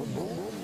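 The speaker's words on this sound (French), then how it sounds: "Ils font hurler leurs moteurs dans leur fief" Motorcycle engines revving on a roundabout during a motorcyclists' protest in France, a loud, rough snarl with wavering pitch rising and falling briefly, no voices over it.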